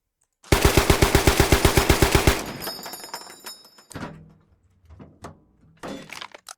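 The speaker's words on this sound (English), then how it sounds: "Get some indirect fire going." Rapid burst of about fifteen loud heavy rounds from a vehicle-mounted weapon in the Squad video game, fired as indirect arcing fire, followed by a fading rumble and several distant thumping impacts and clatter.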